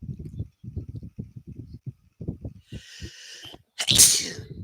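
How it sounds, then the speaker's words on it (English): A single loud, sharp human sneeze bursts out near the end, following a stretch of low muttering and soft handling noise; one abrupt explosive blast with a breathy hiss just before it. "I just sneezed."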